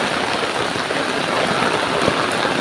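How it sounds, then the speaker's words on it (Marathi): Heavy rain pours down outdoors as a steady, dense, unbroken hiss that stays loud and even throughout, with no voices heard. "एवढा पाऊस पडतोय"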